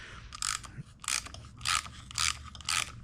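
A ratchet with a 14mm socket backs out a reverse-thread bolt during a scooter engine rebuild, giving five evenly spaced bursts of rapid clicking, close and clear, with no talking.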